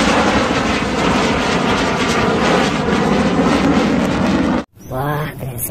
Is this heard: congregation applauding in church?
no